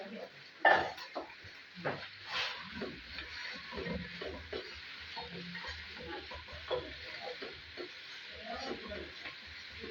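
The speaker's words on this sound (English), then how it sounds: "I said shallow frying so you can see how it is." Quiet sizzling of pork shallow frying in a pan with occasional stirring scrapes and clinks, faint and close, a bird calling briefly in the background.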